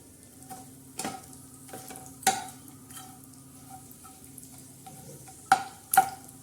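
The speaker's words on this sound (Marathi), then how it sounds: "आता हे बोंबील मस्त असे छानपैकी तळले जाणार आहे" Bombay duck (bombil) fish frying in a pan of hot oil while being stirred, a steady low sizzle broken by occasional scraping and clicking of a spatula against the pan, close and fairly soft.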